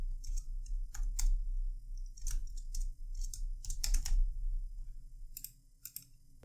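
Fast typing on a computer keyboard while entering an HTML login form, with clustered bursts of sharp key clicks in an uneven rhythm, close and clear over a low steady hum.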